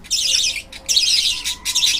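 Pet budgerigars chirp in three loud, rapid bursts of high twittering at close range while eating fresh spinach greens.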